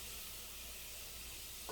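Garlic sizzling in a pan as it is stirred for gumbo, a steady, faint hiss of frying without talk, ending with a small clink.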